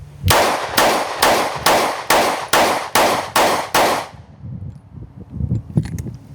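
A DSC9 9mm pistol fires eight sharp, loud shots in a steady rapid rhythm, each cracking close by, then the firing stops and only low handling noise and rustle remain.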